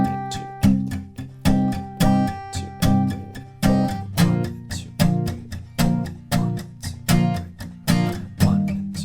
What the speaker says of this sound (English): So altogether our verse will sound like this.